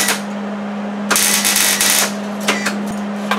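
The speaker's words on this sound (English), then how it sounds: "So I'm just going to tack it for now, just so I know the tabs are in the right places." Tack welding small steel tabs onto a mount for a 1953–1955 Ford F-100 gas tank: two short, harsh crackling bursts, the first about a second long and the second brief, over a steady low electrical hum.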